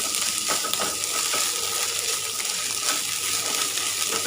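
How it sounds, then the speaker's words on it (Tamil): Ginger garlic paste frying in a pan for palak paneer, giving a dense, steady sizzle with occasional soft stirring scrapes throughout and no speech. "இஞ்சி பூண்டு விழுதும் நல்லா வதக்கணும்"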